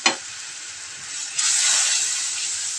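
Whole spices drop into hot oil for a liver bhuna, a sharp hiss at first, then a second, louder burst that settles into a sustained, bright sizzle close by.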